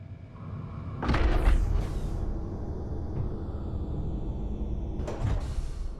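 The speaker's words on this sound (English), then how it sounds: "That's the sound of those gates shutting." Heavy gates shut in the Space Engineers video game, a loud mechanical slam and thud followed by a sliding rumble, then a second impact a few seconds later over a steady low hum.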